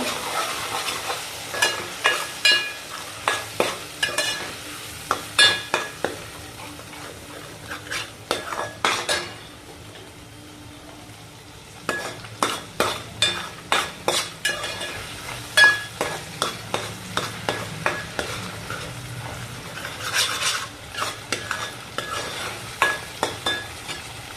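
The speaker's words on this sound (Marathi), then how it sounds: "वाटण चांगले परतून घेऊ" Ground masala paste being fried and stirred in a pan for a rustic black val bean curry, with repeated scraping spoon strokes against the pan in bursts, soft sizzling underneath, and a short pause midway.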